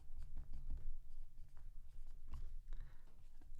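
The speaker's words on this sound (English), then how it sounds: "I'm going to write therefore irrational" A pen writes on paper, giving faint, close scratching strokes in short irregular bursts with small pauses between words.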